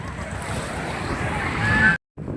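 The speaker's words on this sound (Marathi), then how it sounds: "तर आम्ही आता बसलो आहोत स्पीड बोटमध्ये" A speed boat runs on the sea near a coastal fort, with steady wash of waves and wind buffeting the microphone, rising in intensity before a brief dropout.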